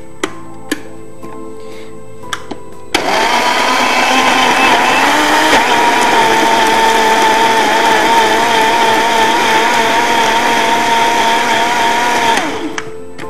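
After a few small clicks, a kitchen blender blending tomatoes roars to life and runs loud and steady for about ten seconds before stopping.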